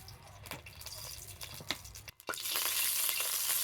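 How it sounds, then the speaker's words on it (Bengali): Oil heating in a wok (kadai) for frying greens: a steady hiss and sizzle that briefly dips, then swells louder and brighter and stays constant to the end. "শাক ভাজার জন্য আমি কড়াইতে দিয়ে দিচ্ছি তেল"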